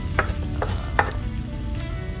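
Garlic sizzles in hot annatto chili oil, a steady close frying crackle with a few sharper pops and stirring scrapes, no talk.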